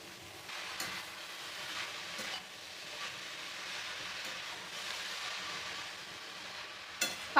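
Eggplant and spinach fry in a pan for a Bengali palong shaker ghonto, giving a steady, soft sizzle with occasional stirring scrapes and a sharper clatter near the end.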